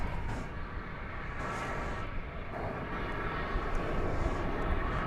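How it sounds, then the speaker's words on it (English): A fixed-wing airliner arrives at DFW Airport on a flight from Chicago O'Hare, its engines a steady, fairly faint broadband roar with a low rumble that holds throughout without pause. "let's take a look at the flight coming in from Chicago O'Hare"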